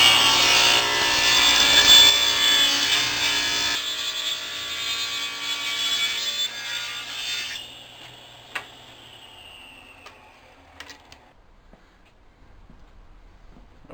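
A table saw rips wood into thin strips for a bent Morris chair part, a loud steady whine through the cut that fades as the blade spins down, followed by a few small knocks.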